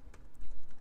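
Quick bursts of keystrokes on a computer keyboard, close and clear, a short run of typing with no voices over it.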